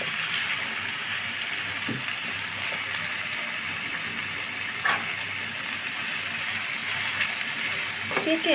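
Steady frying sizzle in a pan, continuous hiss with a few soft clicks of stirring, close and moderately loud.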